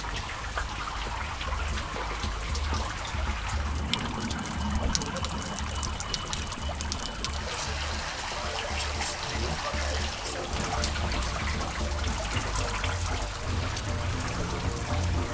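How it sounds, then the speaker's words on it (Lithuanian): Mineral water trickles and drips steadily down the Druskupis graduation wall in Birštonas, Lithuania, a continuous close splashing patter with soft outdoor background. "Druskupis vienintelė Lietuvoje mineralio vandens garinimo siena."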